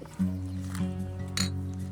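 Glasses clink together in a toast at a casual drinking session, with several short bright chinks spaced through the stretch over a steady humming background.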